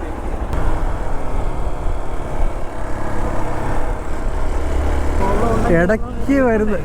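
A motorcycle with about 10,000 km, an engine oil leak and a broken neutral switch runs on a test ride after service: a steady low engine rumble and road noise, with a voice coming in near the end.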